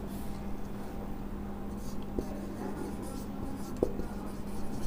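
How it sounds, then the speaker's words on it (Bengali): Pen writing on paper during a chemistry lesson, a soft, continuous scratch over a low steady hum, with a couple of faint taps. "একটু এইদিকে লিখি"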